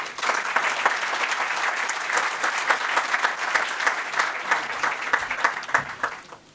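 An audience bursts into sustained applause after a speech at a Greek insurance studies institute event, dense clapping from many hands filling the room steadily throughout, with no talking over it.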